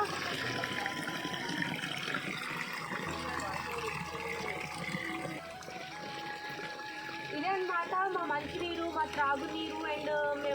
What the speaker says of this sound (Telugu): ఈ భూమి మధ్యలో నుండి ఈ వాటర్ అనేవి వస్తున్నాయి చాలా ప్యూర్ అనమాట